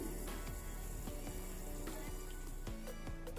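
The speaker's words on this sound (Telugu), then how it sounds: "చూడండి, చారు మరిగిపోయింది కదా" Vamaku charu, an ajwain leaf rasam, bubbling steadily in a pot on the stove, a dense continuous simmer with crackling, sizzle-like pops throughout, close and even in level, with no talking.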